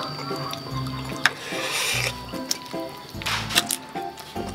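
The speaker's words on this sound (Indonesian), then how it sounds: "Kita aduk." Indomie noodles with batagor, peanut sauce and chili being stirred close up, soft wet squelching and sticky squishes in a loose rhythm over a faint background hum, with a few light clinks.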